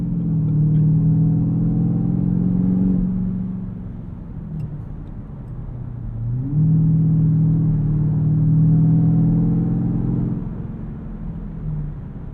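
A 2024 Ford F-150 Raptor R's supercharged 720 hp V8 rumbles deep and steady from inside the cab, swelling twice as it accelerates and easing back between pulls.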